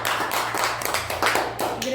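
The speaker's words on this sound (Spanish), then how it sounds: "vamos a darles un aplausote porque lo hicieron muy bien" A school audience applauds a group of students, a dense, steady wash of many hands clapping close by for about two seconds without a break.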